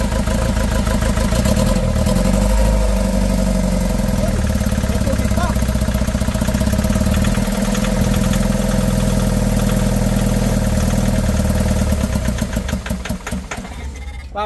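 A Hyundai D4CB diesel engine runs loud and steady right after starting, with a rough, throbbing idle that holds for most of the stretch and then begins to falter near the end.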